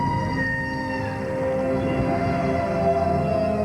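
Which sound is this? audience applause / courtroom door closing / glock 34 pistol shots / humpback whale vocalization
humpback whale vocalization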